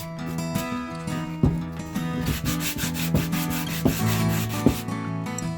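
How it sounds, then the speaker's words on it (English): Sandpaper rubbed by hand over painted wood to strip the paint, producing close, loud, rhythmic back-and-forth scratching strokes in a steady repeating pattern, with no talking. "If you find yourself sanding on one area, it's probably because your paint's on there pretty good."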